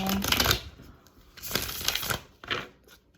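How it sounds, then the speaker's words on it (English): Tarot cards are shuffled in three bursts of riffling and rustling, close and fairly quiet, with short pauses between the bursts. "So I am shuffling the cards right now"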